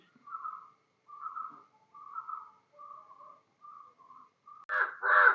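A crow calls out in a series of short, evenly spaced cries, then finishes with two louder, harsher caws close by. No one speaks.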